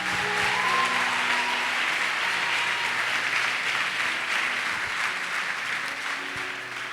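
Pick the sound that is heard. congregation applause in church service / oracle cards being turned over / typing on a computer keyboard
congregation applause in church service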